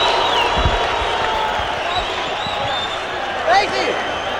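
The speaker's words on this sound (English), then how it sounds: "drawing the ire of the Sacramento crowd" A boxing arena crowd in Sacramento during a lightweight championship bout gives a sustained, steady roar of cheering and applause, with a brief louder swell of shouts near the end.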